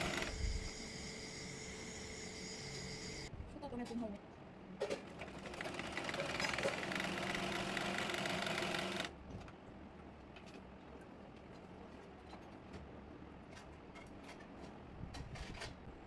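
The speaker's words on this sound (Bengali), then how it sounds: "প্রথমে কলির কাপড়টি সেলাই করে নেব।" A sewing machine stitches fabric for a palazzo salwar, its motor whirring in close runs, loudest for a few seconds mid-stretch, then settling into a quieter mechanical hum.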